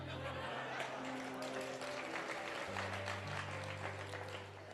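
Applause from a small audience at a Hindi comic poetry recital: steady, dense clapping lasting several seconds, with sustained tonal hums underneath and no speech over it.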